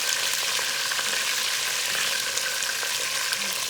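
Potatoes fry in a pan for chicken biryani, giving a steady, dense sizzle with small crackles throughout, close and continuous with no talk.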